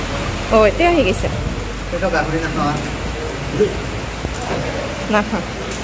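Steady rain keeps falling outdoors beside a roadside hotel in Guwahati, a constant even hiss underneath several voices talking intermittently close by.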